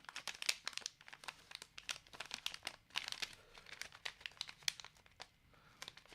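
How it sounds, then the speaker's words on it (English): Paper bags crinkle and crackle as glue is peeled off them, a dense run of sharp, irregular rustling bursts up close with no talk. "I love removing this type of glue from these paper bags."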